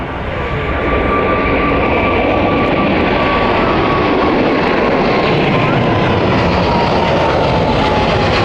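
Jet airliner at Zurich Airport bound for Miami, a loud continuous engine roar with a faint slowly falling whine, steady from start to finish.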